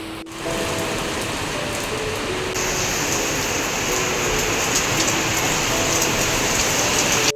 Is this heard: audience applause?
no